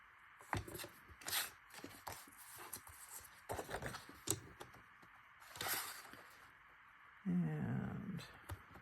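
Paper sheet from a paper pad being cut for fall book page pockets, giving a few soft, close snipping and rustling sounds spread across the stretch, with a louder low rumble near the end.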